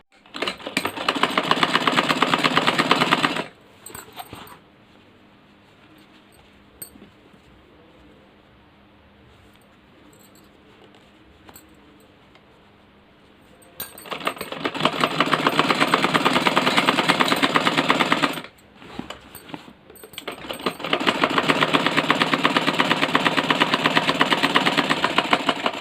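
Sewing machine stitching old jeans in a steady, loud motor whir with rapid needle chatter, running in three long bursts separated by quieter pauses of faint handling noise.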